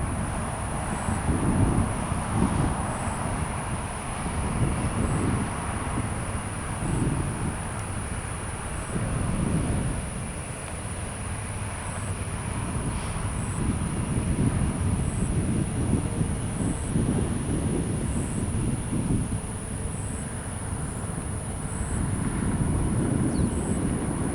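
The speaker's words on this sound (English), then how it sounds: "Southwest 6026 Tampa Tower, runway 1 right, clear for takeoff" A Southwest airliner taking off from runway 1 right at Tampa airport, heard as a steady, loud broadband jet roar that holds throughout with gusty rumbling, seemingly from nearby.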